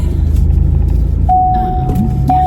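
A car driving along, its steady low engine and road rumble filling the cabin, with a clear electronic chime sounding partway through.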